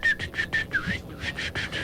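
A person whistles a quick series of short, bright, repeated notes with a little rising-and-falling slide, close and clear, in a rapid rhythm like calling to puppies.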